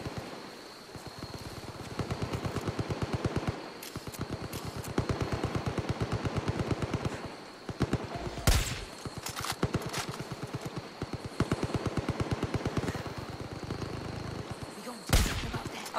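Rapid automatic gunfire from the video game Far Cry 5, dense bursts of shots rattling on and off through most of the stretch, with a couple of louder sharp blasts standing out near the middle and end.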